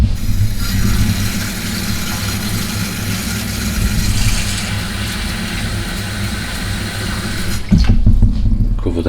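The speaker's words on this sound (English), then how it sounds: "Cover them in water." Water poured steadily from a tap over vegetables in a bowl while a beef and chicken stew is prepared, a continuous close rushing stream that shifts sharply near the end.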